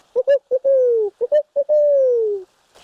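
Human voice imitating a barred owl's hoot during a raptor center presentation: a series of short hoots followed by two long, drawn-out descending calls, loud and close.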